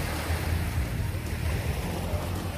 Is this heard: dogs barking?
no